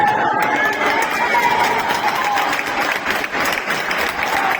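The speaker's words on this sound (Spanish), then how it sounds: "La gente aplaude, vamos." Spectators at a youth futsal match applauding, a continuous close wash of clapping from the stands, with shouts and voices mixed in over it.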